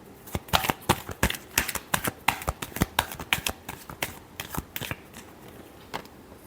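Tarot cards being shuffled by hand, a quick series of sharp papery riffles and slaps, close and crisp, irregular bursts over several seconds with no talking.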